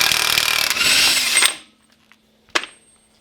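A hand tool works on the wheel hub of a lowered Daihatsu Mira, loud metallic rattling and grinding for over a second, then quiet, then one sharp clink.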